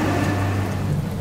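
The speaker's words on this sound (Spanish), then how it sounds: "mucho oleaje, viento, lluvia, y bueno, son los factores que incluyen esta travesía en aguas abiertas." Steady rain, wind and rough waves during an open-water swim crossing off Cozumel form a loud, continuous hissing wash with a low rumble underneath and no voices.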